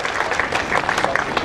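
Sustained applause from an audience at a cooperative bank program launch, dense steady clapping filling the hall throughout.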